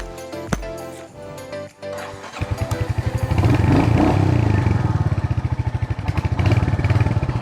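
A Royal Enfield Meteor 350 motorcycle fires up and pulls away, its thumping single-cylinder exhaust beating in a steady rhythm and rising loud and close after a couple of seconds of quieter handling noises.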